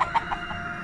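Chickens cluck in a quick series of three or four short, close calls within under a second, clear and fairly loud over faint background noise.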